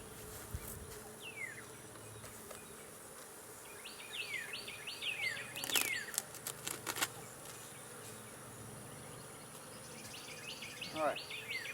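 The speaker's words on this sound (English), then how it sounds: "lots of bees in this box" Bees from a swarm buzzing in a hive box, a close, steady insect drone that swells and fades, with scattered bird chirps and occasional knocks of the box around it.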